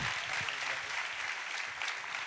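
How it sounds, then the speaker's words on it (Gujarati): An audience applauding at a Thursday youth assembly gathering, a dense, steady clapping that carries at even loudness from start to finish. "એકવાર જોરદાર તાળી ભાઈ એમના માટે"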